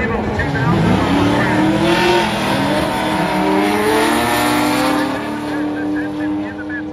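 Drag race cars, including a 4th Gen Camaro, lining up in the lanes at Byron Dragway, engines loud and rumbling with shifting revs throughout, with a public-address voice talking over them.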